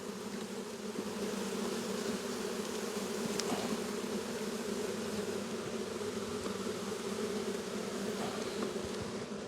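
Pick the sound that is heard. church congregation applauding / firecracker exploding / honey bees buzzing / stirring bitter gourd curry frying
honey bees buzzing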